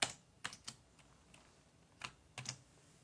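Keys on a computer keyboard pressed for a shortcut, a few sharp clicks spread out with pauses between them, close and fairly quiet with no voices.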